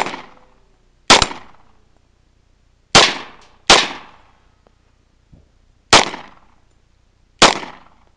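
Handgun shots from a Glock 23 and a Kimber 1911 on a shooting drill: six loud, sharp reports spaced irregularly over several seconds, each with a short decaying tail, plus one faint softer pop, no talking.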